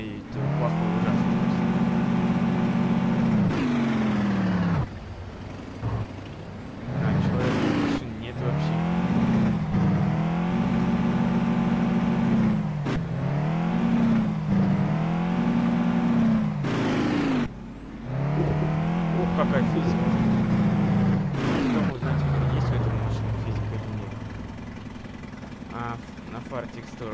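Simulated VAZ 2105 engine from a Euro Truck Simulator 2 mod revving in repeated surges and drops between pauses, a synthetic-sounding drone rising and falling through gears, fairly loud and alone.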